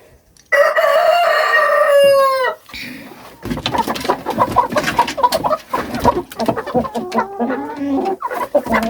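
A rooster on a chicken farm lets out one loud, close cock-a-doodle-doo, then a pause before a busy stretch of clucking and squawking from several birds, with more crowing calls near the end.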